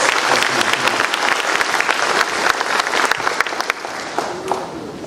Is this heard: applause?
yes